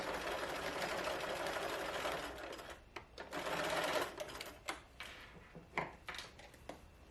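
A sewing machine runs in close bursts while stitching fabric for a small pillow, with a long whirring run, then shorter runs broken by pauses, clicks and handling noise.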